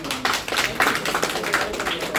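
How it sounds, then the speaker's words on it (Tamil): An audience at an awards ceremony gives steady, moderately loud applause, a continuous patter of many hands filling the room. "நீங்களும் வந்து கைத்தட்டி அதை ஆதரிக்கணும்"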